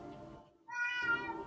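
A pet cat meows indoors, two short vocal calls, the second a longer, higher and clearer meow, fairly close and quiet with no talking over it.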